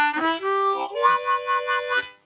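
Harmonica phrase opening with a pickup into a held note, then a pulsing chord repeated in short, even bursts, played alone and close.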